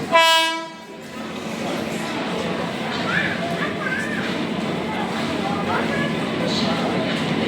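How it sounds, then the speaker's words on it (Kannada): A train pulls into a station platform, a loud horn blast at the start giving way to a steady rumble of the arriving train. "Train finally arrival."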